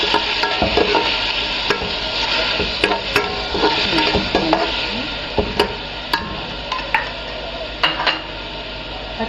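Chopped tomatoes sizzle in a pan with vinegar for Egyptian moussaka, stirred briskly. A loud, busy frying hiss carries sharp clinks of a utensil against the pan throughout.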